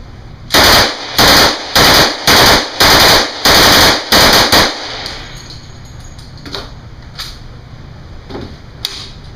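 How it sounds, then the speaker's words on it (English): A Thompson M1A1 submachine gun fires seven or eight sharp, loud automatic bursts in quick rhythmic succession at a shooting range, followed by quieter scattered shots and ringing ambience. "Here with me today is Tommy gun M1A1."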